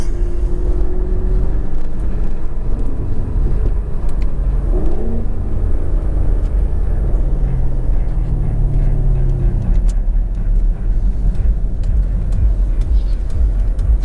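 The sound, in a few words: Chevrolet Camaro SS engine accelerating hard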